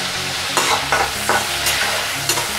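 Prawns fry in a pan with a steady close sizzle while a utensil stirs them in a few distinct scraping strokes, spaced roughly every half second over the crackle, with no talk.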